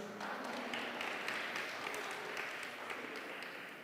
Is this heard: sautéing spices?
no